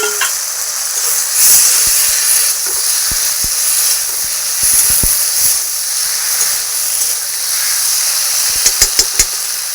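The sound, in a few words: potatoes and pointed gourd added to sizzling spice masala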